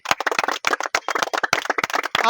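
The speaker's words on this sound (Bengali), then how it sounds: "বি টিমের জন্য জোর হাততালি" Loud, dense applause for team B at a children's sponge-and-bottle water-filling challenge, sharp claps in a steady rapid flurry that runs throughout without pause.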